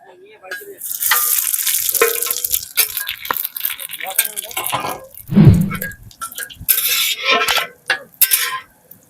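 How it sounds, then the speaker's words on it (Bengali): Dried red chilli, bay leaf and cumin seeds hit hot mustard oil in a wok, giving bursts of crackling sizzle with clinks and scrapes of a spoon against the pan and a brief voice in between. "এখন দিয়ে দেবো শুকনো লঙ্কা, তেজপাতা আর সাদা জিরে।"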